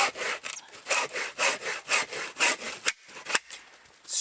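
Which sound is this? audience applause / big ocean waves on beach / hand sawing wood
hand sawing wood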